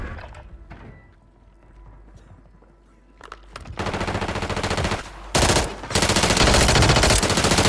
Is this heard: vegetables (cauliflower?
no